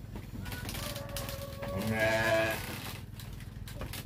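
In a fattening pen, a sheep lets out one wavering bleat, mid-distance, over a constant hum of background noise and livestock shuffling.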